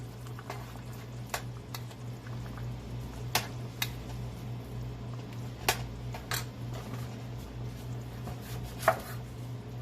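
A knife chops eggplant on a cutting board in irregular, sharp taps, some louder than others, over a low steady hum.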